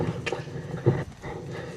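A horse trotting under a rider, with rhythmic clip-clop hoofbeats that are close and moderately loud over a low background rumble.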